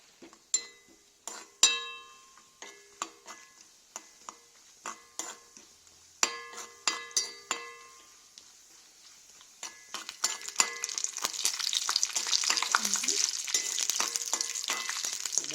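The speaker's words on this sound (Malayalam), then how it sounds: "നന്നായി ചൂടായി കഴിഞ്ഞിട്ട് അതിലേക്ക് അണ്ടിപ്പരിപ്പ് ഇടുകയാണ്." Cashew nuts dropped into hot ghee in a pan: a run of sharp metallic clinks and taps from a spoon on the vessel, then a rising, dense sizzle as the nuts fry, with no talk.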